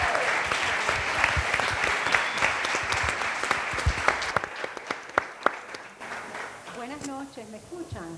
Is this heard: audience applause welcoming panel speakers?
yes